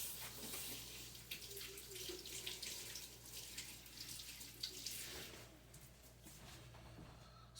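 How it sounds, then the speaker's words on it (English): Hot tap water runs steadily into a kitchen sink while a spoon is rinsed under it, a continuous close splashing hiss with small shifts as the spoon moves through the stream. "rinse off the spoon."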